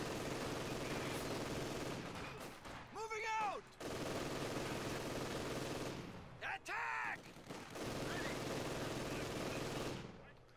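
Battle din from Company of Heroes 2, a dense continuous rattle of gunfire and machine-gun bursts with rising whistling shell sounds cutting through twice, a constant loud wartime barrage with no pauses.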